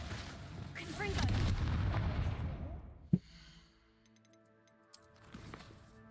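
A Confringo explosive spell goes off in Hogwarts Legacy, a sharp blast near the middle that cuts through a dense rumble of in-game combat, then fades into quieter magical shimmer and a second softer burst.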